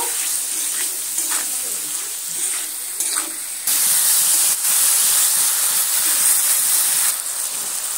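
Ground spices fry in oil in a pan for an eggplant curry, giving a steady close hiss and sizzle that swells louder partway through as they are stirred.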